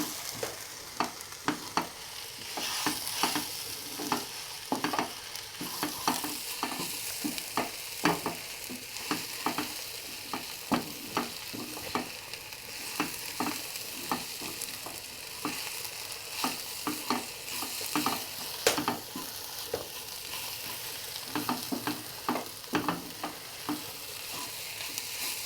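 Food sizzles steadily in a pan while a utensil stirs it, giving a continuous hiss broken by frequent scraping clicks at an uneven rhythm, close and fairly loud with no voices.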